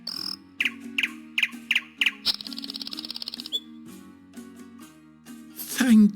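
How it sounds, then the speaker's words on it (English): A nightingale singing for an emperor gives a run of about five sharp, repeated chirps, then a fast trill and scattered tweets. The song sits over soft background music. "The nightingale is now in the palace and it sings for the emperor."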